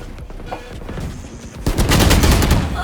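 Rapid automatic weapon fire from Valorant bursts in after a quieter stretch, a dense rattling volley of loud shots filling the last second and a half.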